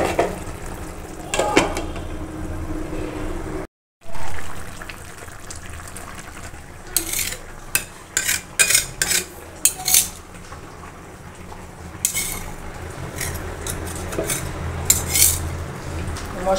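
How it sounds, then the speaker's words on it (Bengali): Spices are stirred into a pot of bata fish and eggplant curry, with repeated metallic clinks and scrapes of a spoon against the pot over a low simmering background, and a few sharper clatters toward the end. "তারপর হচ্ছে মশলা দেব।"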